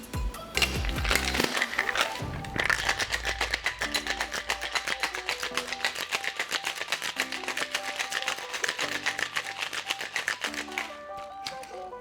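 A cocktail shaker holding a non-alcoholic margarita with fresh orange juice and agave syrup rattles in a fast, steady rhythm for several seconds, close and crisp over soft background music.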